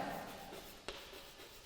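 Quiet writing during an English class: faint scratching of a pen on paper, with one soft tap near the middle.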